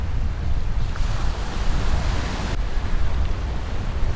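Ocean surf washes steadily against a historic Hawaiian beach below the volcano Hualalai, a continuous broadband roar of breaking waves mixed with wind buffeting the microphone, with no voices.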